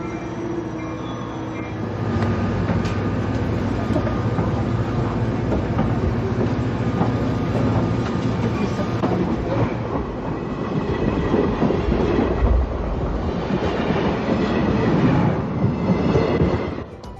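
A passenger train rolls through the Oceanside Transportation Center on the coastal Surfline route, its loud steady rumble and rhythmic clickety-clack of wheels continuing close by throughout, with no speech.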